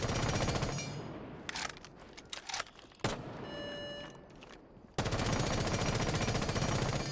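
Automatic gunfire in Rainbow Six Siege rattles in loud continuous bursts, dropping into a quieter stretch with a few sharp isolated shots and clicks before another long sustained burst opens up again, with no talk over it.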